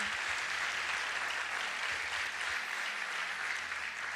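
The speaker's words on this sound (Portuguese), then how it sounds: "Você pode aplaudir Jesus com alegria?" A church congregation claps together during a Foursquare Gospel worship service, a dense, steady wash of applause that holds evenly from start to finish.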